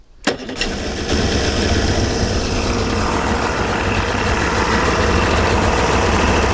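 A Suzuki DT55 outboard motor starts with a brief cranking burst, then catches and settles into a loud, steady idle around 700 rpm that runs on without a break.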